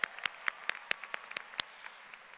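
Sparse, scattered clapping from a few people at a high school graduation ceremony for the class of 2025, distinct individual claps in an uneven rhythm, fairly quiet and thin.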